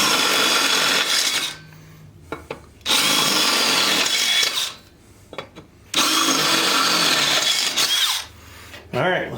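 A power drill with a 1/2-inch bit bores into a log during a log arch hauler build, whirring loudly in several long bursts separated by short pauses with small clinks.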